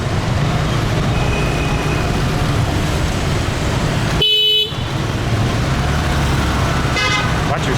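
Dense rush-hour street traffic in Saigon on a Monday, a continuous roar of motorbikes and cars with a loud horn blast midway and another short honk near the end, voices faintly over it.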